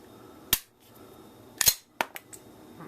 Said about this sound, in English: make sure that the gun is loading and ejecting, or extracting the rounds I should say, properly.